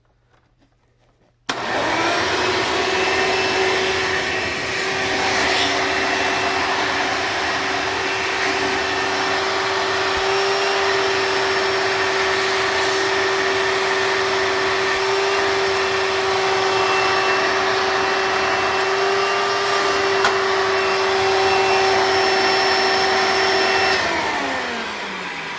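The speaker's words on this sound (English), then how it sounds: "let's see how restrictive it is" A blue 2009 Hoover Elite soft-bag vacuum cleaner in poor condition switches on after a brief silence and then runs with a steady, loud whine and rushing airflow, with no voices.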